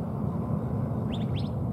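A few quick, high bird chirps in a short burst near the end, faint over a steady low outdoor rumble at Luke Air Force Base, where F-16 jets are present.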